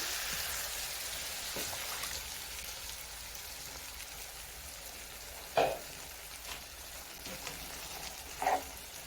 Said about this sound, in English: Now I'm also just going to add in a bit of water